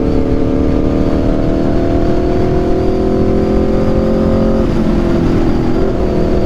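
An Aprilia RSV4 motorcycle with an SC-Project exhaust drones loudly and steadily while riding on a rainy road, its engine note holding, then dropping sharply as a gear shifts.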